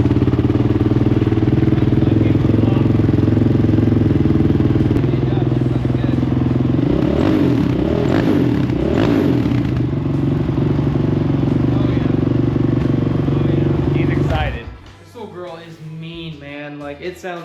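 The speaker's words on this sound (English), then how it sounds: "I guess you guys might wanna hear the exhaust." A 2008 Honda TRX450ER ATV exhaust drones loudly and steadily at close range, with rising revs in the middle, then cuts to rough, uneven idling pops near the end.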